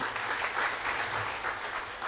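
An audience gives steady, even applause to welcome a guest at a talk event, a continuous wash of many hands clapping with no break, moderately loud and heard from within the room.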